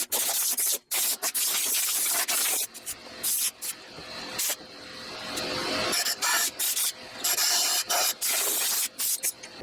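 Compressed air blasts debris out of a dumpster-found Coleman 425C camp stove in loud, close hissing bursts, some short and choppy, some held for several seconds, with brief pauses between them.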